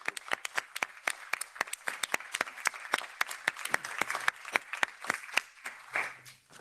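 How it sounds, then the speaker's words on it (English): Audience at a policy event on animal welfare in the pet trade claps after a presentation, a loud, irregular burst of many sharp hand claps that thins toward the end. "Can we have a round of applause for the..."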